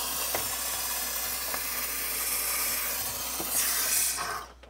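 A steamer hisses continuously on the plastic and foam panel of a Samsung twin cooling refrigerator, a loud, close, steady rush that swells briefly and then cuts off at the end.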